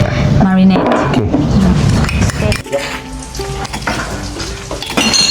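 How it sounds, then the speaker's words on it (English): Spring rolls deep fry in hot oil at a Thai cooking class in Chiang Mai, giving a loud, steady sizzle with clinks of utensils and pans while people talk over it. "So deep fry spring roll till golden brown color."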